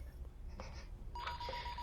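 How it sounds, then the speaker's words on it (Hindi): A phone rings with short electronic tones, faint and brief, over quiet background hum. "फोन बज रहा है"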